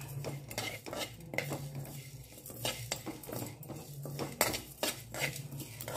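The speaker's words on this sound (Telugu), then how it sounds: "ఇప్పుడు నువ్వులు కూడా వేసి వేయించుకుందాం." Sesame seeds and coriander seeds dry-roasting in a pan come through as a busy, close run of metallic spatula scrapes and clinks against the pan, with a faint hiss beneath.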